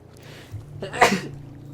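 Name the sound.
sneeze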